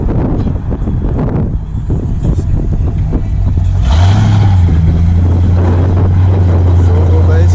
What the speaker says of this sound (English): Short wheelbase Silverado. C10.